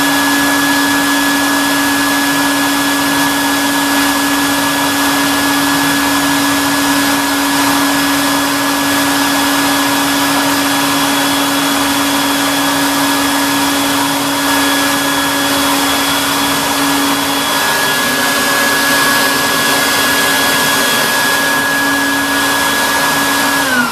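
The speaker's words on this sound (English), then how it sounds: "let's vacuum up a few of our styrofoam bees and see how easy it is." A Colorado Bee Vac vacuum sucks up styrofoam bees, its motor giving a loud, steady whooshing roar with a constant tonal whine that runs unbroken throughout, with no talking.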